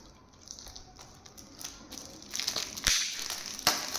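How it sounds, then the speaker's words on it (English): Plastic shrink wrap is cut and peeled off a Star Wars Outlaws PS5 Special Edition game box, crinkling up close. The crackles grow louder toward the end, with a few sharper snaps. "So let's unwrap it."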